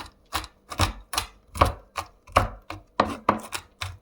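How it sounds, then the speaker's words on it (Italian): A knife chops shelled pistachios on a board in a series of about a dozen crisp, close, evenly paced strikes, heard alone. "Trittiamo i pistacchi sgusciati"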